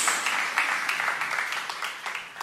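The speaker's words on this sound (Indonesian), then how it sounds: "Tepuk tangan yang paling meriah buat Yesus" Church congregation clapping in praise during a sermon, a dense, steady burst of applause at moderate volume that fades slightly toward the end.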